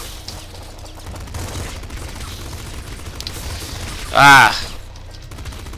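Pop gun firing in Nuclear Throne: a steady rattle of small rapid shots under low background noise, capped by one louder, brighter burst near the end, with a brief voiced exclamation.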